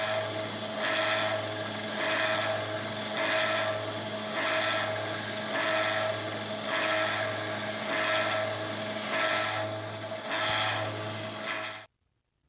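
A 1x30 belt sander grinds a bevel onto a steel spade drill bit, the belt whirring steadily while the abrasive rasp swells in rhythmic passes about once a second, then stops abruptly.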